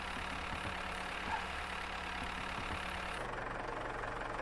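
A tractor engine in the farming video game Farmers Life runs at a steady idle-like drone with faint knocking pulses, constant and moderately loud, cutting to a duller tone near the end, with no talking.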